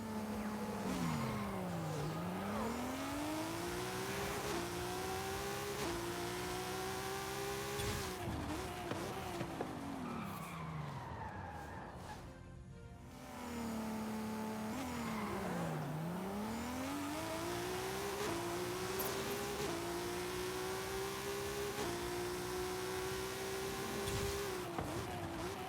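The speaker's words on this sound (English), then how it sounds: "The Pro Stock Camaro is a Pro Stock drag car. So it is built to just go really fast" A Pro Stock Camaro drag car in the Forza Horizon 5 racing game makes two full-throttle runs. Its high-revving engine climbs through sharp gear shifts, with a brief lift between runs. The sound is loud and continuous, with no talking.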